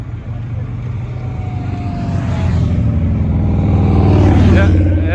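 Big BMW dual sport motorcycle at an adventure riders' camp, its engine rumbling nearby and building steadily louder as it pulls closer, with people talking over it.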